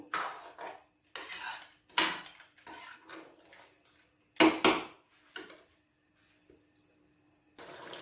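A utensil stirs ginger chicken in a cooking pot, producing irregular metallic scrapes and knocks, some sharp and loud, close up with quiet gaps between.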